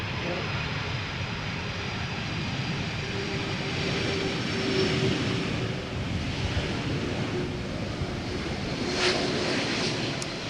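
Airliner on approach to the Polderbaan runway at Schiphol, a steady broadband engine roar with wind-like rush holding loud and continuous throughout, nearby voices faintly mixed in.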